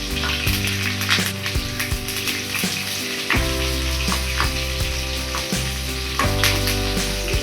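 Mustard seeds, sliced shallots and curry leaves fry in hot oil for kadala curry, a steady loud sizzle and crackle running throughout with no talking.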